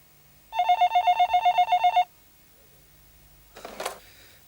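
A telephone bell rings in a rapid burst of about a second and a half, then stops; a brief rustling noise follows.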